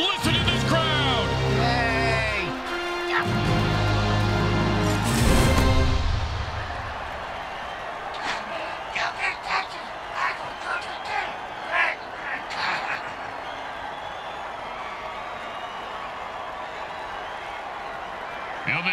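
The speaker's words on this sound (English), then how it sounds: "Listen to this crowd." A crowd in a football video game erupts after a touchdown, with a loud, dense swell at first that settles into a sustained roar with scattered claps and shouts.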